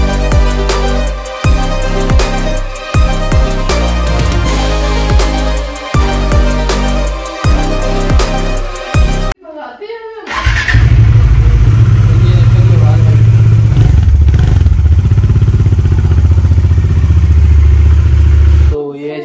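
A Bajaj Dominar motorcycle is started with its key: music and clattering come first, then after a brief gap the engine catches and settles into a loud, steady idle with a deep rumbling throb.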